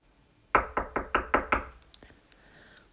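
Six firm knocks on a door land in a quick, even rhythm, loud and close, followed by a few fainter taps and a soft rustle.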